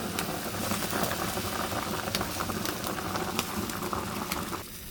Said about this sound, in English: Cook the meat pot over high heat to bring it to boil